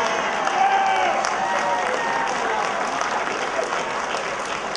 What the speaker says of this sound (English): I want a big round of applause.